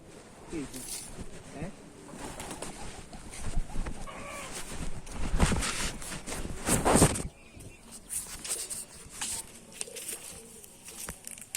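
A pet pigeon close by coos softly, then gives several bursts of wing flapping near the middle, with faint household noise underneath.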